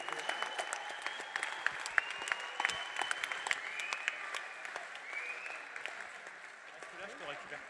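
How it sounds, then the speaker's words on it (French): An audience applauds at the end of a show, dense and steady clapping, and voices murmur and call out underneath. "Je crois qu'on peut encore une fois toutes et tous les applaudir."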